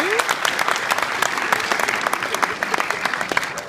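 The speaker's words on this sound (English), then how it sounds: "You're being polite and clapping" An audience claps steadily for a goalkeeper's award presentation, a dense, even patter of many hands heard up close, with a brief voice near the start.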